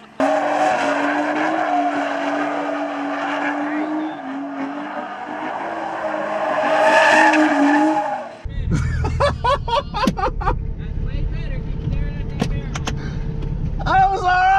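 A drifting car's engine roars through the first half, then tires squeal and skid in repeated sharp bursts along with engine revving, loud and close throughout.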